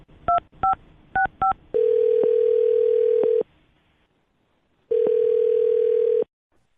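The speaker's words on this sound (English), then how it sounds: "I'm going to dial his phone number right now" A phone number is punched in as four quick DTMF keypad beeps, followed by two long, steady tones with a silent gap between them, loud and clear with no talking.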